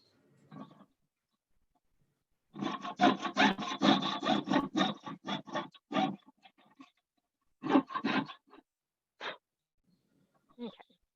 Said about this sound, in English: So that's the sawing.